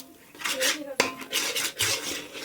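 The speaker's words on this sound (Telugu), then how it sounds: "కలిపి తిప్పుకోండి ఫ్రెండ్స్" A metal spoon stirs fish gravy with onions, salt, chili powder and garam masala in a cooking pot for fish biryani, making repeated close clanks and scrapes against the metal with a sharp knock about a second in.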